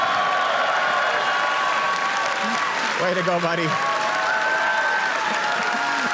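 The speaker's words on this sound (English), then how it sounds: "Give them a big round of applause." Crowd applause at a political rally fills the room steadily for the whole stretch, with a voice calling out encouragement over it.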